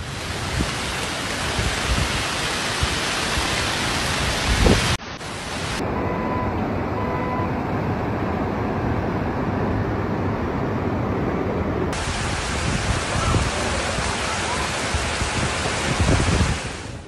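Heavy rain and strong wind during a storm at Mecca's sacred shrine make a dense, loud, continuous roar with gusty wind rumble, steady throughout apart from a brief dip.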